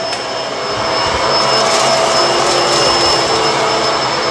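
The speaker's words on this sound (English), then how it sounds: "let's continue cleaning with the Bissell. Turn it on, turn brush roll on." A Bissell Multi Clean Allergen Pet vacuum with its brush roll spinning gives a loud, steady motor whine and airflow roar that builds from switch-on and holds constant while cleaning dirt off a floor.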